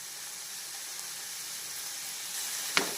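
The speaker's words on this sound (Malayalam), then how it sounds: "അപ്പോൾ ഇതിനെ നന്നായിട്ട് ഇളക്കി കൊടുക്കുക" Corn kernels with black pepper powder sizzle in a pan over high heat, a steady, close hiss of frying with a couple of brief clinks from stirring at the end.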